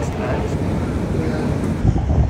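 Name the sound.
wind blowing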